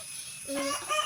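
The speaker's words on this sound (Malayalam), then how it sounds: "ഒരു കോഴിക്ക് മൂന്ന് കുഞ്ഞുങ്ങളുണ്ട്" A country hen with three chicks clucks near a house in rainy weather, one or two short close calls over quiet background.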